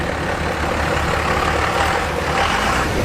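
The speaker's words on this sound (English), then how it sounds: "Such a Cummins sound now." A Cummins diesel engine swapped into a classic truck rumbles at a steady idle close by, a deep, rough, continuous drone with no talking.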